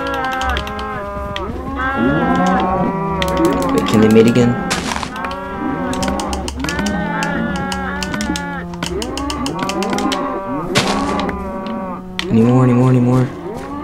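Cattle low repeatedly in a farming video game, with several drawn-out moos overlapping throughout, set against game sounds and dull thuds, while someone talks over them.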